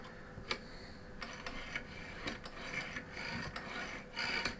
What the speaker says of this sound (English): I can rub some of the dust off there.